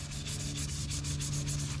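Hand sanding of cured epoxy with 1000 grit sandpaper while repairing boat damage, a steady rhythmic rubbing scuff with even back-and-forth strokes, close and continuous with no talking.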